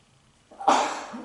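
A single short sneeze, fairly quiet and close, bursting out once and fading within a second.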